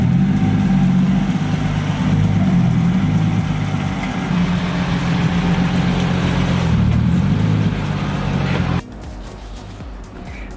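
A car rolls in near a garage where a Mitsubishi Eclipse GSX is being repaired, a loud steady engine rumble that holds for about nine seconds before cutting off and dropping to quieter background noise.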